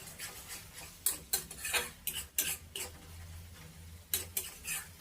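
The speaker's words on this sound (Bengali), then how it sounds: "এই বাটা মশলাটার কাঁচা গন্ধটা চলে যাওয়া পর্যন্ত কিন্তু নাড়াচাড়া করব" A spoon scrapes and clinks against a pan while stirring a ginger, garlic and green chilli paste, giving irregular metallic taps over a faint background hiss.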